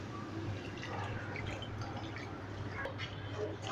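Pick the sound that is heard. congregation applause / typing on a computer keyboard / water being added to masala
water being added to masala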